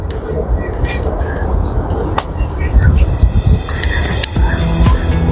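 A yellow train passes by a platform at Jurong Lake Gardens, Singapore, with a steady low rumble and a faint high whine that continue through the whole clip.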